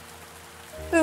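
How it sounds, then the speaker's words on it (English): Rain falling in the video game The Spirit and the Mouse, a soft, even patter that runs steadily for about a second before a brighter chime-like game sound cuts in at the end. "It's raining again."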